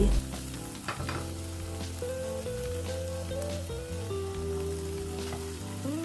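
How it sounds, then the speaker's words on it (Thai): Steady sizzling and frying as rice is stir-fried in a hot wok with faint scraping and stirring, continuous and fairly quiet, with no voices. "ต่อไปก็ให้นำข้าวค่ะ มาใส่ลงไปผัดได้เลย"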